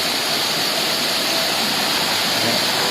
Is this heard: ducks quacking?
no